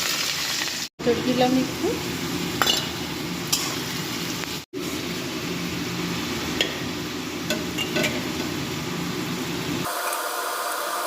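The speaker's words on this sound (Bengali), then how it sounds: "আর এখানে তেলও বসিয়ে দিয়েছি, আগে একটু আলু ভেজে নিলাম" Potatoes frying in hot oil in a home kitchen, a steady close sizzle running almost the whole time with brief stirring clatter, a short pause partway through, and someone speaking a few words over it.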